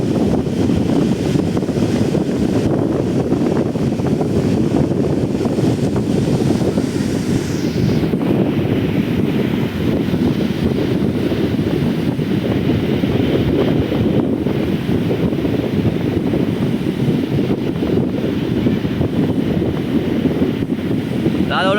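Strong wind roars continuously across the microphone at the shore while waves churn and break below it, a dense, loud, unbroken rush with no pause.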